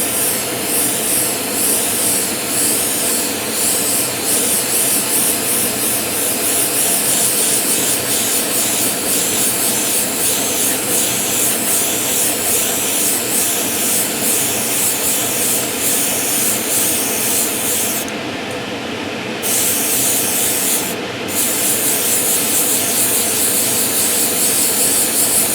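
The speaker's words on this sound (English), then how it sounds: "we hit the extractors, but hopefully you'll still be able to hear us" Workshop extractor fans roar in a constant loud hiss while a model Airfix 1:72 Vulcan is spray painted, steady and unbroken, with a couple of brief dips near the end.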